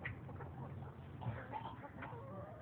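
Chickens cluck softly and intermittently at a distance, small bursts of fowl calls over a low outdoor background.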